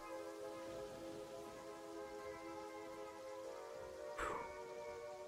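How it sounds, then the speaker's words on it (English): Rain falling in the video game Terraria, a steady, even hiss that lasts the whole clip under a layer of game music, with a brief brighter swell near the end and no talking. "Get rid of the fuck-ass rain."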